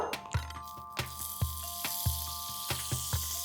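A tablespoon of butter heats in a pan and sizzles softly. Regular light ticks and pops recur about every half second over a faint steady hiss and a low hum, and no one speaks.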